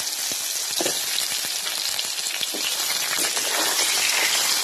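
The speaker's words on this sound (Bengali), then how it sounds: "এবার কেটে রাখা আলুগুলো দিয়ে ভালো করে ভাজবো" Cut potatoes fry in hot oil in a pan, giving a loud, dense, continuous sizzle with scattered crackles and pops from start to finish.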